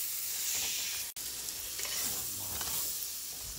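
Gumbo ingredients sizzle in a hot pan as they are stirred, a continuous close frying hiss with scraping stir noises and a brief dropout partway through.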